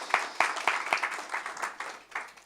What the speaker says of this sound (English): I think we should give Director Marcotte a little round of applause for all that great work